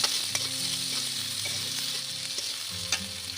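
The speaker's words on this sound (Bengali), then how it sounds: "এখন তেলের মধ্যে দিয়ে দেওয়া হলো বেশ কিছুটা কুচানো পেঁয়াজ।" Chopped onion sizzles in hot oil in a kadai over a village wood fire, a steady close crackle with occasional stirring scrapes, over soft background music.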